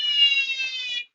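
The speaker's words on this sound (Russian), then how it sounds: "покупайте все такую сирену" Bicycle siren sounding: a loud, steady, high electronic alarm tone held for about a second before cutting off abruptly, heard alone.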